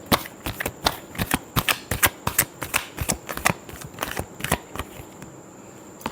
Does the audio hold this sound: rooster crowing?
no